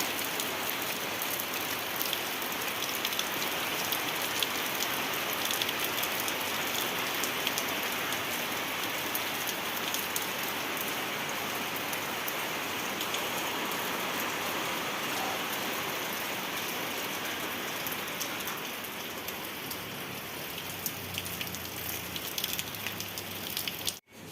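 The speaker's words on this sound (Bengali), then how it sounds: "এই যে বৃষ্টি শুরু হয়ে গেছে দেখো পুরো বৃষ্টি শুরু হয়ে গেছে" Steady rain pours down, a dense continuous hiss of drops on surfaces, loud and unbroken for the whole stretch.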